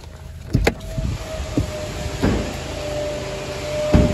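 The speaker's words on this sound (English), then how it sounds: "We've got that pan roof as well, which is here, controlled just by the little slider here." An electric panoramic glass roof on a new Volkswagen Golf GTI 2.0 TSI DSG glides along its track, a steady motor whine running through with a few soft clicks and clunks at the start and end, close up in the cabin.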